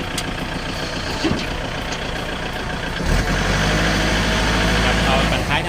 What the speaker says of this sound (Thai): เสียงเครื่องเพาะดีนะครับคันนี้